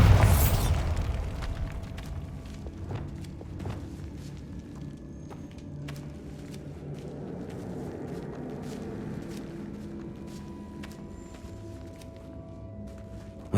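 A heavy explosive blast from a Bombarda spell in Hogwarts Legacy, loud at first and followed by rumbling debris, then scattered crunchy footsteps and clatters over a low ambient drone.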